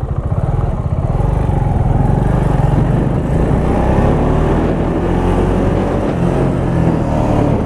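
A KTM Duke 690 motorcycle swerving through an avoidance maneuver, its engine droning loud and close, steady and unbroken over the whole stretch.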